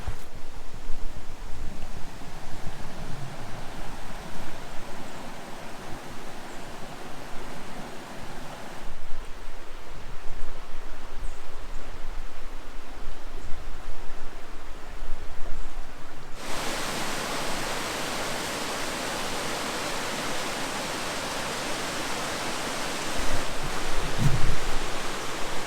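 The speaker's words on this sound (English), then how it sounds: "this is Saxon Falls" Saxon Falls on the Montreal River below the dam rushes as a continuous broadband roar, louder and brighter in the final stretch, with wind buffeting the microphone and no talk.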